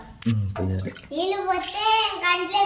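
A few splashes of water near the start, followed by a voice speaking and calling out over faint water sounds.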